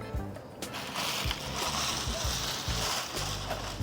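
A hand plunging and stirring through ice water in a beach cooler of chilled beer at an all-inclusive resort in Salinas Maceió, with close, continuous sloshing and splattering.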